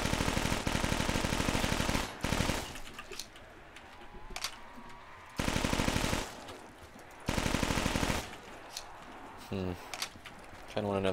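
Bursts of rapid automatic gunfire in Black Ops 3 zombies gameplay, loud sustained volleys of a few seconds each separated by brief pauses, with someone talking between the bursts.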